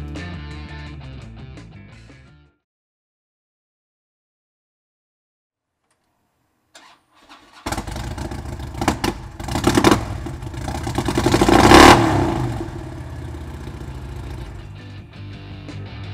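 A 2008 Harley-Davidson FLTR Road Glide engine fires up after a pause and revs several times, rising loud and throaty before settling into a steady rumbling idle.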